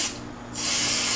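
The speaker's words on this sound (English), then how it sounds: "So I'm just going to spray a little bit on here" A Misto pump sprayer hisses out a short, close burst of mist onto a telescope's first-surface mirror. It opens with a brief spritz, eases off, then settles into a louder, steady spray to the end.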